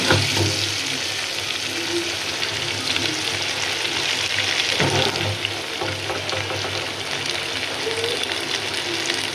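Puti fish frying in a pan with ground spices, a steady loud sizzle that runs unbroken throughout, with faint clatter of stirring and kitchen movement.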